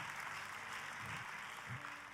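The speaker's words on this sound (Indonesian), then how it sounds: "tepuk tangannya boleh yang paling meriah" Church congregation applauding during a Christian sermon, a soft, even wash of distant clapping that holds steady for a couple of seconds without voices on top.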